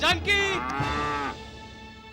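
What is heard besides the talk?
cow mooing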